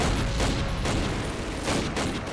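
Heavy mounted-gun fire in the World War II shooter Call of Duty: United Offensive roars as a continuous dense barrage, loud and close, with bursts blending into a sustained rattle and no talk.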